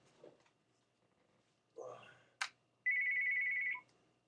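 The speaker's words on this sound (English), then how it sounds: "So somebody's calling me right now all the time" A phone rings with an incoming call, a single bright electronic ring tone lasting about a second after some faint rustling and a brief click, heard fairly close in a quiet room.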